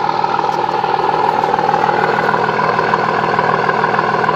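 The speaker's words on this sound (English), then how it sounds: "And this is the truck idling right now, right off the bat." A 2006 pickup with a Cummins 5.9 diesel idles on a waste oil blend, its steady low rumble and even clatter close and alone, with no voices.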